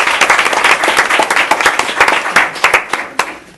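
An audience breaks into sustained applause, dense overlapping claps filling the room loudly and evenly for several seconds, with no talk over it.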